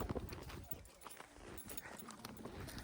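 Horse hooves clop unevenly during a ride in Kodaikanal, mixed with faint voices and background bustle at moderate distance.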